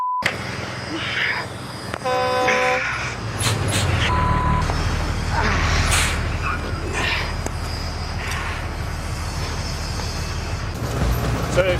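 A heavy tram in a video game rumbles close by with a brief bell-like ding and hissing brakes, the low roar building and holding throughout.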